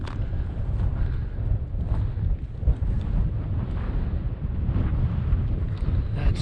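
Strong wind buffeting the microphone across open antelope hunting terrain in Utah, a loud, steady low roar with gusty rumbling throughout and no voices.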